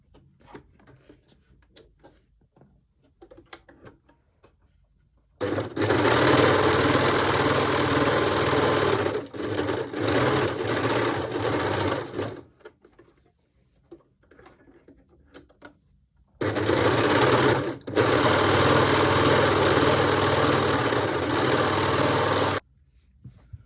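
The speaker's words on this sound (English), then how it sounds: "I will overlock these seams, and also I will overlock this seam and this little seam." An overlocker runs in two long sustained bursts of rapid stitching while seaming linen shorts, loud and steady with a brief stutter partway through each run, separated by quiet pauses with small handling clicks.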